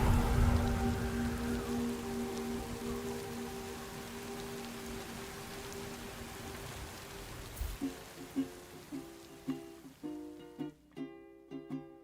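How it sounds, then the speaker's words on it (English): Steady rainfall in the game Death Stranding 2 patters on surfaces as a dense, even wash, later thinning while a series of soft rhythmic knocks and tonal pulses rise over the fading rain. "Raindrops are falling on my head"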